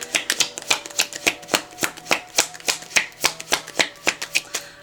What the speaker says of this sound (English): I'm being told to shuffle and then pull off the top.